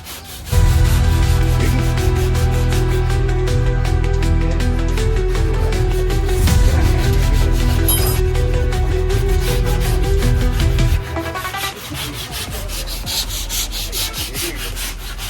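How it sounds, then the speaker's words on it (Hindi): Steady, continuous abrasive rubbing as a painter sands the body panel of a Maruti Swift during dent and paint work, loud and close, easing to a lighter, quieter scrubbing near the end with no speech. "फ्रंट वाले में पेंटर साहब ने अभी नहीं घिसा है, पर अब घिसेंगे।"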